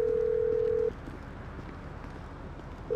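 A phone in Grand Theft Auto V rings with a single steady electronic tone that holds for almost a second, then a pause over low game ambience before the tone starts again at the end.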